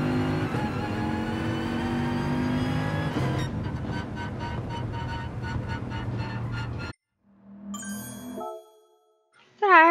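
A race car in Gran Turismo Sport accelerating out of a corner, a steady loud engine drone with a rising pitch, followed by an abrupt cut and short electronic chimes and dings.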